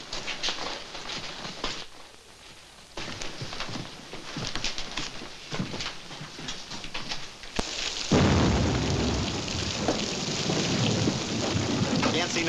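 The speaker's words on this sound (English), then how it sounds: "Can't see nothing in this rain." Heavy storm rain pours steadily in a dense, loud hiss, with rumbles of thunder and a sharp surge in intensity partway through; a faint voice is barely present.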